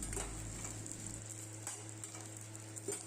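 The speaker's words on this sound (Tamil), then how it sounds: "நான் 25 ரெட் சில்லியை வந்து ஆட் பண்ணி எண்ணெயிலேயே 5 மினிட்ஸ் வந்து ஃப்ரை பண்ணி எடுத்துக்க போகிறேன்." Red chillies frying in sesame oil in a pan while making a citron pickle, a steady close sizzle with a low hum throughout and a few faint stirring clinks.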